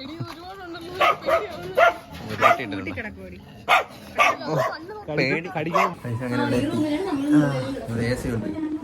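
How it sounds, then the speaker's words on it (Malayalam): High-pitched yips and barks from young dogs burst out repeatedly, mixed with people talking nearby. "ഈ പട്ടിക്കുട്ടികളെ വീട്ടിൽ പോകും."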